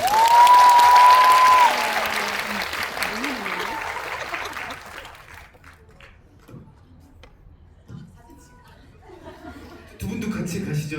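A crowd at a Korean film guest talk event bursts into loud applause at the start, then it thins and fades into quiet murmurs and scattered sounds, with a voice returning at the end.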